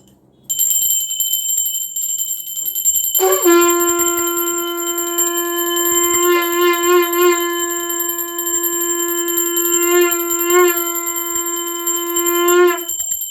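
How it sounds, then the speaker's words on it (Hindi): A brass hand bell is rung at a home puja during the Satyanarayan katha. Its bright, sustained ringing starts after about three seconds and continues steadily for roughly ten seconds over a faint high background tone. "ये घंटी का नाद आप करिए, बजाइए घंटी"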